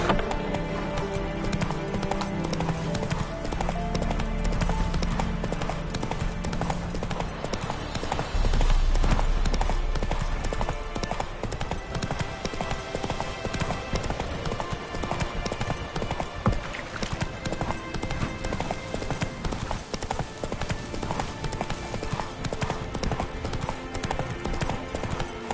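Steady clip-clop of Roach the horse's hooves in The Witcher video game, a continuous trotting rhythm mixed with game music and ambience, with a brief louder thump partway through.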